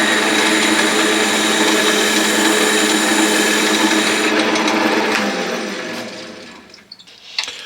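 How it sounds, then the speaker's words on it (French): Steady whirring of a wood lathe as sandpaper is pressed against a turned wooden decorative bulb, loud and continuous, then spinning down and fading to quieter handling noise near the end. "maintenant on va donner un petit coup de ponçage pour finir tout ça"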